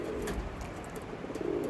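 An Andhra breed pigeon coos softly and steadily at close range for a couple of seconds, with low murmuring tones and no voices present.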